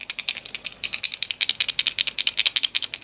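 Macadamia nuts in their shells rattle and click together while being counted by hand, a quick run of light, sharp taps close by with no talking.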